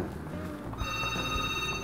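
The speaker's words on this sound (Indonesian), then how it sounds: "Katanya ada telepon." A telephone starts ringing partway through with a steady electronic tone over a low, busy background, continuing to the end.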